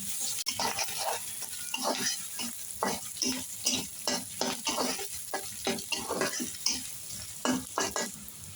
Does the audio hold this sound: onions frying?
yes